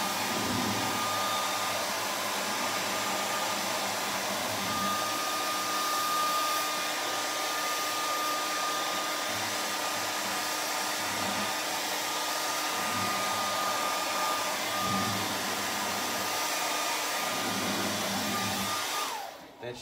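Close, loud hairdryer drone runs continuously for nearly twenty seconds as it heats the neck pocket of a 1950 Martin D-28 guitar, then cuts off abruptly at the end, with no speech over it.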